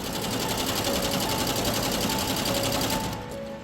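Sewing machines stitch and embroider clothes in a startup workshop in Chanpatia, a loud, dense, rapid mechanical chatter running continuously and easing slightly at the end.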